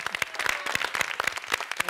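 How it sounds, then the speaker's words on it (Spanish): A small group claps in quick, uneven bursts for a guest on a Spanish-language talk show, each sharp hand clap distinct and close, with no steady roar behind them. "Un aplauso para Yossi Tassi"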